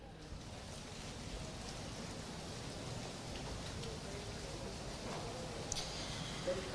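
Heavy rain pouring steadily over Jaipur city, a dense continuous hiss that stays level throughout with a few faint sharper drips near the end.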